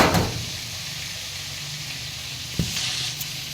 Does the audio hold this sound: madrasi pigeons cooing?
no